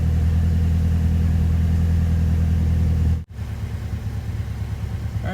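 A first-generation Mazdaspeed 3 engine idles near 1,000 RPM with a steady low rumble, briefly interrupted by a sharp click before settling back into an even, slightly uneven idle.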